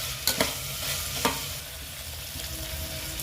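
Beans and carrots frying in a pan, a soft steady sizzle broken by a few quick stirring scrapes near the start.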